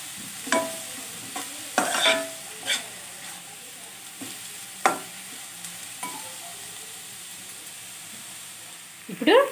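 Amaranth leaves stir-fry in a pan with a soft background sizzle, broken by several scraping stirs of a spatula at irregular intervals, close and moderately loud, with a quick rustling burst at the end.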